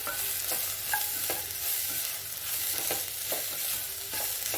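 Chicken roast masala sizzles in a pan as pepper powder is stirred in, with a steady frying hiss and regular scraping strokes of the spoon, close and with no one talking.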